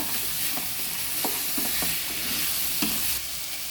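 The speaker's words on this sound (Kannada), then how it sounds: "ಇದಿಷ್ಟು ಒಂದು ನಿಮಿಷ ಫ್ರೈ ಆದರೆ ಸಾಕು ಜಾಸ್ತಿ ಬೇಡ" Spices, turmeric and squeezed lemon juice fry in a pan for vegetable pulao, with a steady close sizzle broken by several distinct scraping stirs of a spoon.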